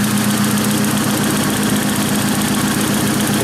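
A Volkswagen Parati 1.0 16v with a GT17 turbo idles steadily and loud, its low, even engine hum running without a break and nobody talking over it.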